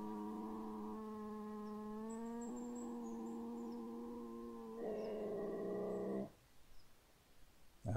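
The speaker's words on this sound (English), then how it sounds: "That's quite the growl." A Eurasian lynx growl played from a game caller in theHunter Classic: a long, loud, tonal moaning growl that shifts pitch in several stages over about six seconds, then cuts off into quiet background noise.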